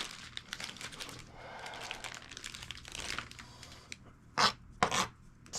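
Crinkly plastic rustling and handling as garlic goes into a Ziploc bag for a steak marinade, a steady close crackle ending in two sharper, louder bag crunches.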